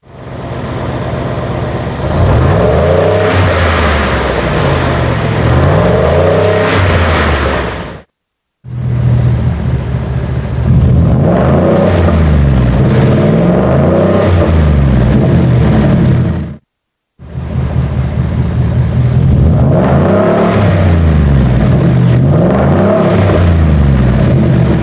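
A 2020 Roush F-150 Nitemare pickup's engine rumbles and revs loudly nearby in three separate passes with short silent breaks between them, one for each drive mode, with a rising and falling throaty exhaust note throughout. No talking.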